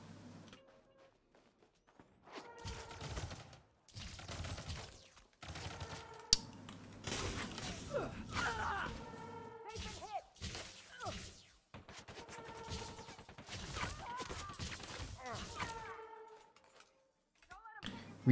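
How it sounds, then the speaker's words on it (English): Rapid gunfire in Elite Dangerous Odyssey ground combat, with clustered sharp shots and bursts coming and going among other game effects, mixed with someone speaking. "We are shooting the peoples."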